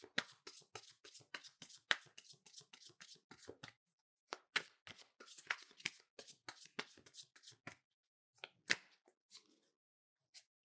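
Tarot cards are shuffled by hand in quick bursts of crisp riffling and slapping, close and fairly quiet, with short pauses between bursts and a few final taps.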